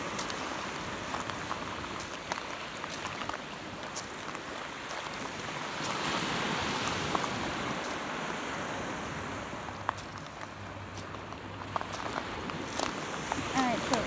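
Ocean surf on a Sanibel Island beach as the tide comes in makes a continuous broad wash of waves with some wind, while people talk intermittently nearby.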